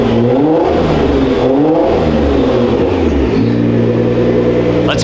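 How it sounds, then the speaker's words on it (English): Loud, close twin-turbo car engine revving in a few rising surges, then settling into a steady idle rumble. "Oh, how I love the sound of those twin turbos"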